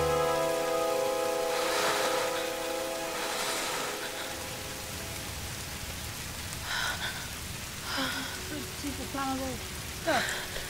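Steady rain patters throughout in Tomb Raider, with a low hum at first and a few brief vocal sounds breaking in later.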